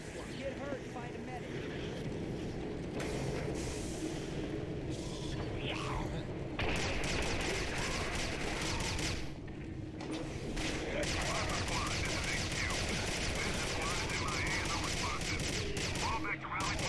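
Sustained gunfire against demons in the PC shooter Quake 4, dense bursts of shots and booming impacts over a loud, continuous battle backdrop, with brief lulls between volleys.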